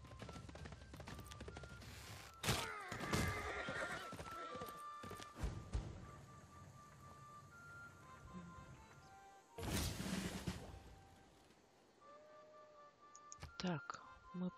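A horse whinnies and hooves clip-clop among clicks and battle effects as a catapult fires on it in Civilization VI, with louder bursts near 2.5 and 10 seconds.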